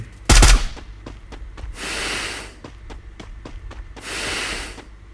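Shots from a first-person shooter game: a single loud sharp blast near the start, then a string of lighter rapid cracks between two long hissing bursts, with no one talking.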